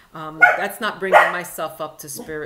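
Dog barking in a few short yips and woofs mixed in with a person speaking nearby, the barks overlapping the talk.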